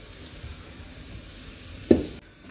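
A brief burst of sizzling as garlic hits hot oil, with a low kitchen hum before it and a sudden cutoff just after.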